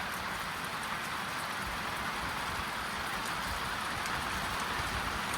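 Heavy rain falling steadily on a farm in Ecuador, a dense, even hiss of drops on surfaces that holds at a constant level throughout, with no voices.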